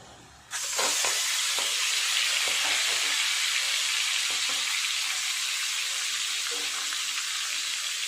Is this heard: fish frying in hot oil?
yes